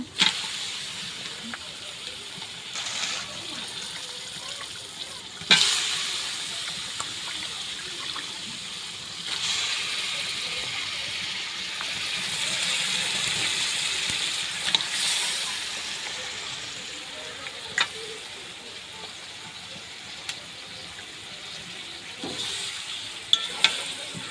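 Meat going into a pan of sizzling spice mixture for a curry, a continuous close hiss and crackle with intermittent stirring clanks and scrapes, and no voice over it.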